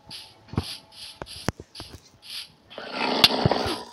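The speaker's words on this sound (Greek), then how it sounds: "Ήταν λύκος, με κυνηγάει." A dog-like creature, a wolf in a video game, growls and snarls in short bursts with sharp thuds between them, followed by a denser scuffling rush of noise near the end.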